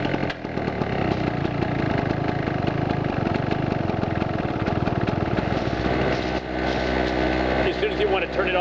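Chicago Electric portable generator engine, started cold on choke, running steadily with a loud continuous drone and rough engine texture, a person talking over it.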